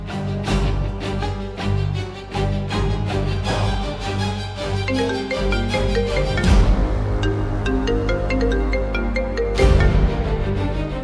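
A mobile phone rings with a loud melodic ringtone, steady tonal notes repeating over a bass-heavy beat for the full stretch, with a brief sweeping swell near the middle and no voices.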